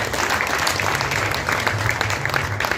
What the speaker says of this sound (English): they give her a very big hand clap